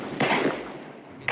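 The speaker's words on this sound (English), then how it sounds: "It sounded an awful lot like gunshots." Gunshots come over a telephone line, two muffled, distant-sounding bangs separated by about a second, thin and band-limited, with no voices during the shots.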